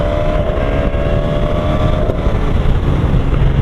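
A motorbike ridden with a GoPro Karma Grip mounted on it, steady engine drone and heavy low rumble with wind buffeting across the microphone, close and loud throughout with no talk.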